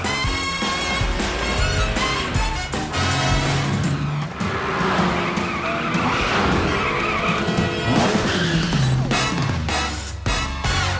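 A cartoon cat car speeds off with loud squealing, skidding tires and a revving engine, the screeches coming in repeated bursts over a continuous drive, set against busy cartoon sound effects.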